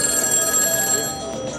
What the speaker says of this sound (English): the smartphone and the feature phone all ringing